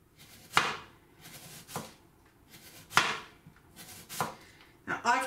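A knife cuts thinly through an onion on a cutting board for coleslaw, giving about five crisp, close chopping strokes in an uneven rhythm, with quiet pauses between them.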